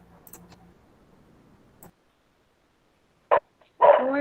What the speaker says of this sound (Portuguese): mas agora o cachorro resolveu cantar ali fora